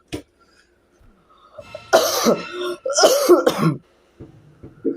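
A person coughs in a couple of harsh, close bursts during a Roblox gaming session, with faint quiet breaths around them.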